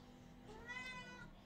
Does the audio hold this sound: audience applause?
no